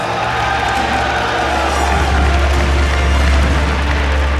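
Crowd cheering at the Intel Extreme Masters StarCraft quarterfinal in New York, a loud, dense roar of many voices and whoops filling the hall without pause.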